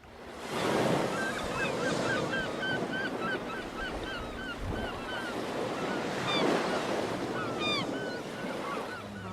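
Steady surf roars on a Florida beach with wind buffeting the microphone, while gulls or geese call repeatedly in the background throughout.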